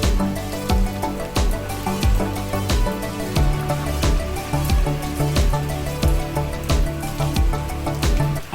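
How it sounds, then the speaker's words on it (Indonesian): Heavy rain pours steadily at a hillside resort, a dense, close wash of water with regular dripping impacts repeating throughout. "di sore harinya di tempat ini tuh hujan turun dong dengan lumayan deras"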